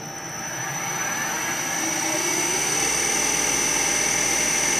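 An Eldorado M75-1041 deep hole gun drilling machine runs a cycle at its lowest drive setting, giving a steady whining, broadband machine hum that rises slightly at the start and then holds level, close and continuous.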